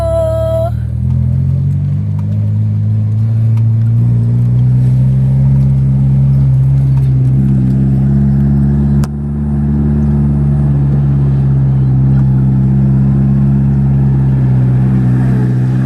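A car pulls out through a gate and accelerates on the road home from Baguio City toward Manila, its steady mid-pitched engine drone rising and holding loud and close for about sixteen seconds, with a brief dip midway.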